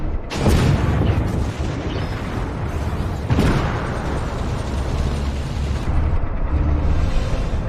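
Tank shell impacts explode in the Armored Warfare video game, a loud booming blast near the start and another around the middle over a steady rumbling engine and mechanical clatter, with no talk.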